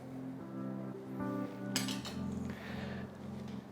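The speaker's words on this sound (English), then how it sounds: "turn the bowl and cut through the butter" A knife cuts butter into flour in a bowl while scone dough is being prepared, giving light metallic clinks and scrapes against the bowl, close up with a faint background hum and no talk.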